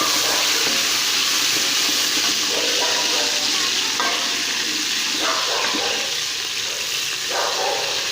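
Chopped tomatoes sizzle and fry steadily in a pan of hot oil for a Pakistani black masoor dal dish, a dense continuous crackle with occasional stirring scrapes, close and fairly loud with no talk.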